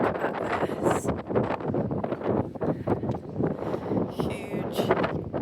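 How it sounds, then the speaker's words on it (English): Strong gusty wind on a beach at Calais buffets the microphone with loud, uneven rumbling bursts that rise and fall throughout, with no clear speech. "there's a very strong wind, as you can hear"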